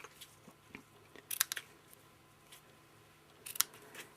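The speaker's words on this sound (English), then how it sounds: "Using my paper snips." Paper snips cut grosgrain ribbon in two brief clusters of crisp, close snipping clicks, separated by a quiet pause, with no talking.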